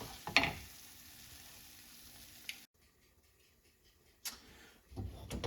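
Hash sizzles quietly in a non-stick skillet, a soft steady frying hiss broken by a few knocks and clatters from stirring or a lid, then fading low.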